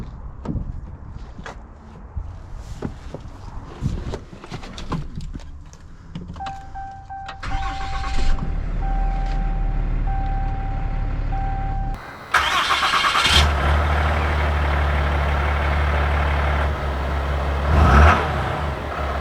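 A 2020 Ram 5500 diesel work truck with a cab-chassis body starts up, with small clicks and thumps before the engine cranks, catches and settles into a loud, steady idle, recorded close up with a brief rev near the end.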